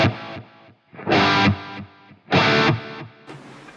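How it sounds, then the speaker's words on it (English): Distorted electric guitar played through a Fractal AX8 with a tape-style echo delay block: three loud chord bursts, each with a decaying repeat trailing after it, and a brighter, thinner tone at the end. "So it acts like a sort of classic tape echo."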